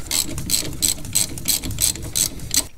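Hand ratchet turning out a bolt during a front big brake kit install on a 1996-2002 Dodge Viper, a close steady series of about nine clicking strokes with no talk.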